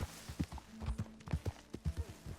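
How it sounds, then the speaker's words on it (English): Horse hooves clip-clop in Red Dead Redemption 2, a run of steady, evenly spaced hoof strikes at a walking pace, close and moderately loud over a soft game backdrop. "somebody's got their horse hitched up here"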